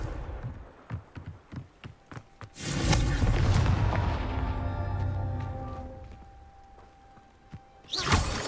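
A Confringo blasting spell from Hogwarts Legacy lands with a loud booming explosion and a long rumbling tail, preceded by a run of rapid ticking clicks, and a second burst arrives at the end.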